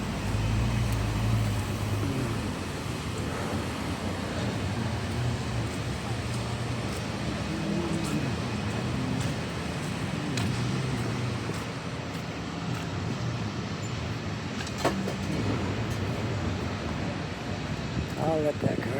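A car passing on a city street near a waterfront, a broad rolling roadway rumble that swells and fades under a voice talking, with light street ambience.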